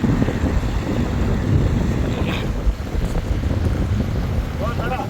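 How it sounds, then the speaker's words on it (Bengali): A speedboat crosses open water toward a trawler, its motor and rushing wind making a loud, steady roar, with buffeting noise on the microphone and a voice briefly heard beneath it. "তো আমরা যাচ্ছি এই স্পিড বোট দিয়ে"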